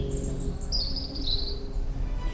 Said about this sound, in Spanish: Escuchen los pajaritos.